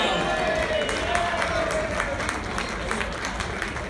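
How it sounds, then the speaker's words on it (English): Applause from an audience at a KISS fan expo Q&A session in Atlanta, a steady wash of clapping mixed with crowd noise and a faint voice, moderately loud throughout. "Can we get a round of applause for the Star Child?"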